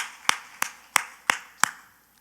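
A church congregation clapping in unison, five sharp, evenly spaced claps during a worship service, crisp and fairly close, with no voices.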